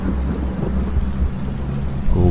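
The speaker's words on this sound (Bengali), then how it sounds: "বৃষ্টির বেগটা আরো বেড়ে উঠল।" Heavy rain pours with deep rumbling thunder as a storm effect in a Bengali ghost story, a loud, dense roar that fills the whole short stretch without pause.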